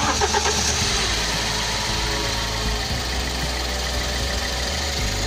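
A BMW E90 318 with an N43 engine cranks and catches, then settles into a steady loud idle with a continuous mid-pitched hum and light ticking that holds to the end.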